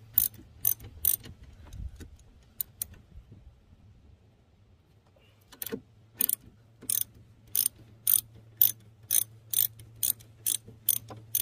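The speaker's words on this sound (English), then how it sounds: "And so now I just take my socket and start to loosen it up." Socket ratchet loosening the blade bolt on a lawn mower, heard as quick crisp clicking bursts, a short run then a pause, then a longer steady series of sharp ratchet clicks over a low hum.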